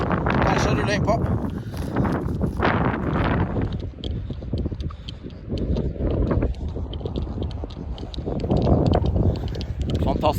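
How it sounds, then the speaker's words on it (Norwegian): Strong wind of about 12–13 metres per second batters the microphone on the Banak golf links, gusting loudly and roughly throughout, with a voice speaking over it. "Men vinden den har nok har øket på litt."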